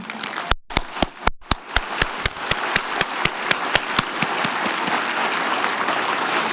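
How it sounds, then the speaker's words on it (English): Audience applause at the UNA-USA Global Engagement Summit in the UN General Assembly Hall, opening with a few distinct claps that swell into steady, dense clapping from a large crowd, continuing alone without speech. "Please stand so we all can give you a round of applause."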